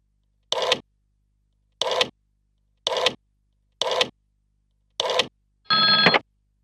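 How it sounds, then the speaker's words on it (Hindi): A telephone bell rings in five short, evenly spaced bursts, then one longer ring; clear and fairly close, with silence between rings and no talking. "अब अरुण को फोन करो।"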